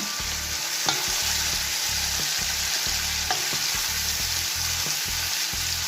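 Chicken basquaise sizzles steadily in a pan while a utensil stirs it in quick, regular scraping strokes, close and continuous throughout.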